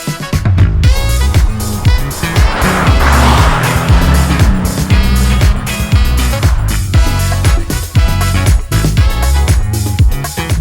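A Bentley Continental GT being driven hard, its engine loud and close with a dense, continuous roar, revs rising and falling and tire noise layered through, with no talking.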